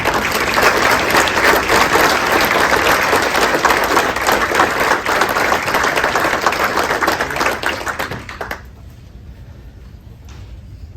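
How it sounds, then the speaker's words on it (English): Loud, dense clapping from a city audience standing for guests at a state of the city address carries on for about eight seconds, then drops away abruptly to a quiet room. "We can give you a round of applause."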